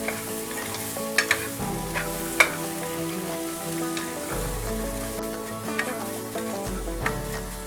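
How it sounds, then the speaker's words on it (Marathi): Mixed vegetables with peas being stir-fried in a pan over a low flame, a continuous sizzle with scattered scraping and clinking from stirring and occasional sharper knocks, close and fairly loud. "चांगलं परतून घ्यायचे।"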